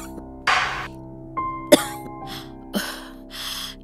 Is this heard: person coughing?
yes